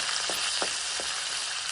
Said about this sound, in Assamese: অকণমান ৰঙচুৱাকৈ ভাজি ল'লোঁ